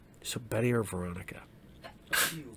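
A single sharp sneeze bursts out near the end, following a man's spoken question in a casual conversation about cartoons.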